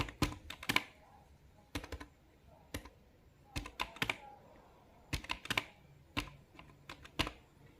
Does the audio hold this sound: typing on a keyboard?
yes